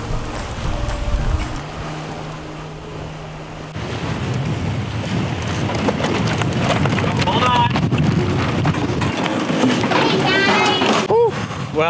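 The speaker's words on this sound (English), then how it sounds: "we got, all of a sudden, a real strong gust of wind" A sailboat under way at over seven knots is hit by a sudden strong gust, with loud, steady wind roar and rushing water, sea noise building midway and staying loud to the end, voices faint beneath.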